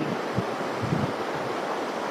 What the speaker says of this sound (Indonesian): Salah satunya air di sekitar saya ini, air terjun yang luar biasa.